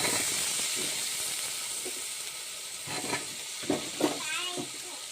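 Sautéed tomato and onion for puli kulambu sizzle and hiss steadily in a pan, close and fairly loud, with stirring clinks and scrapes toward the end and a voice talking over it.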